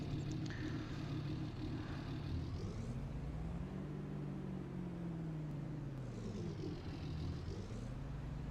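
A truck drives in the farming video game Farming Simulator 22, with a steady engine rumble whose pitch sweeps slowly up and down and a whine rising at the start and near the end, running continuously without talk.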